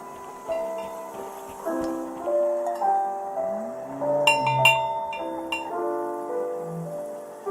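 A bell rings in the video game Season: A Letter To The Future on PS5, its bright clinking strikes sounding over a soft melodic chime pattern, with a few sharper ringing hits clustered near the middle.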